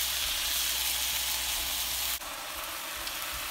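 Salted fish sizzling in a frying pan, a loud, dense and steady hiss of hot oil heard up close, dropping slightly in level partway through, with no voices.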